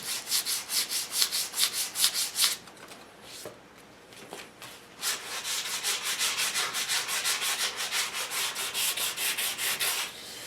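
120-grit sandpaper rubbing across an English walnut HW80 gunstock in steady back-and-forth strokes, loud and close, pausing briefly around the middle before resuming a fast even rhythm.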